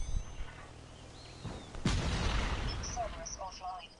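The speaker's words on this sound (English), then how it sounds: "A guy shot me with a rocket launcher." A rocket launcher blast in the video game Black Ops 3 hits with a sudden heavy boom followed by rumbling debris, set against ongoing game noise and a few faint electronic tones.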